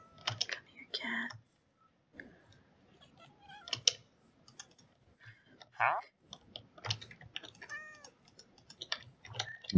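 Short in-game cat meows from a Minecraft-style multiplayer server, heard a couple of times amid dense keyboard typing and mouse clicks, with players talking.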